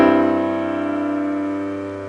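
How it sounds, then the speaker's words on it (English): A single sustained cadential 6/4 chord rings out clearly, apparently on piano, with one firm attack followed by a slow, even decay over about two seconds and no voices. "This is called a cadential 6/4."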